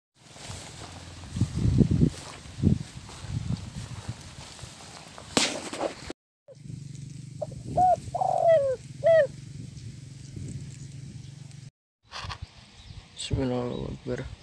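Spotted doves cooing outdoors during a bird hunt, a few repeated coo phrases at moderate distance amid rustling and footsteps, with someone talking over parts of it.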